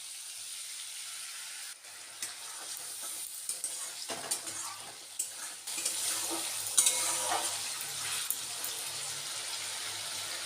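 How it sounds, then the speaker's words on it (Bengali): Masala paste frying with potatoes in a pan for a Bengali vegetarian mochar ghonto, with steady sizzling and repeated stirring scrapes close by, alone without talk. "মশলাটাকে একটু ভালো করে কষে নিই"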